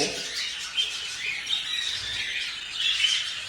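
Caged pet birds with fresh nesting material squawk continuously at close range, a dense, loud, rasping chorus of overlapping harsh calls that carries on without pause.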